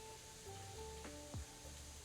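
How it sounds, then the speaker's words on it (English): Sanji-style croquettes frying in hot oil, a faint, steady sizzle running throughout, with a few brief tonal clinks and a short swoop over the top. "I'll give you some close-up sizzle action here."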